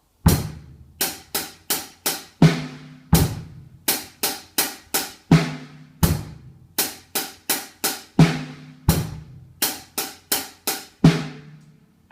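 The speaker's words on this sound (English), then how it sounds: "It's bass and hi-hat together first." A steady drum pattern repeats: low bass drum thumps mixed with crisp, rapid hi-hat ticks in an even, looping rhythm, played alone.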